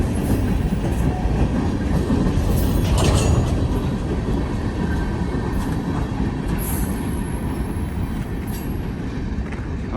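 A Norfolk & Western locomotive and its train roll steadily past nearby, a loud continuous rumble of wheels on rails with faint squeals and clatter throughout.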